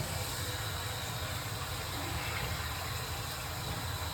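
Toilet tank refilling through a newly replaced fill valve once the water supply is turned back on, a close, steady hiss and rush of flowing water with no talk.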